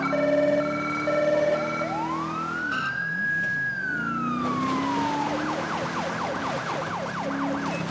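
A police car siren in Grand Theft Auto 5 with the LSPDFR police mod. It starts with steady tones, rises into a long wail, then switches to a fast, loud, yelping warble.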